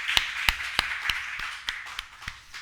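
A church congregation claps in a slow, deliberate rhythm, about eight sharp, fairly close claps spaced roughly evenly and gradually softening toward the end.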